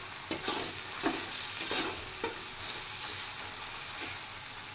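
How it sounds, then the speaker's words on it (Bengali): Grated garlic sizzles in a pan with fried onions while a spoon scrapes and stirs in a few distinct strokes. The frying is soft and close, with no voices. "রসুনটা একটু ফ্রাই করে নেব।"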